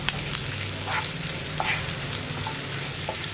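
Onions frying and stirred in a pan until light brown, a steady close sizzle broken by several light spatula scrapes and clicks, alone without speech.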